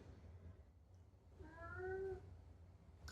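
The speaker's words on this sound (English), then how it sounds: "Did you just try to open the door, Charlie?" Pet cat meowing at a door indoors: a single drawn-out, rising-then-falling meow, faint and nearby, over a quiet room hum with no talking.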